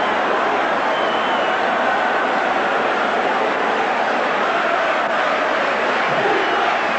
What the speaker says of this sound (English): The crowd loving that.